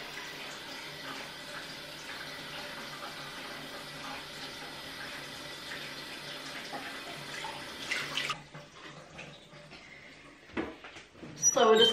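Hot water runs from a tap onto a flannel, a steady rushing stream that stops abruptly near the end, followed by a few soft thumps and handling noises.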